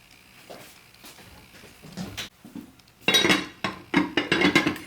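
A pot lid fetched and handled in a home kitchen, a run of close metallic clinks, clanks and knocks that start sparse and grow louder and busier toward the end, with no talk.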